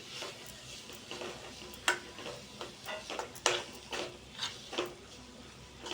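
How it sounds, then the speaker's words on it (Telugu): Mashed poha mixture with chilli powder being stirred in a pan for poha rolls, a soft ongoing sizzle broken by repeated spatula scrapes and taps every second or so, close and unvoiced. "బాగా మిక్స్ చేసుకోండి ఇదంతా."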